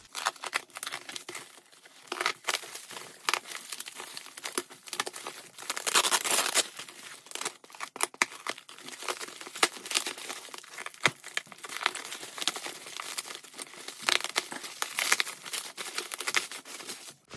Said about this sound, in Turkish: Bu maket bıçağıyla açacağız mecbur.